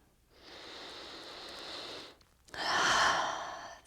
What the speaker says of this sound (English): I'm just going to stay and breathe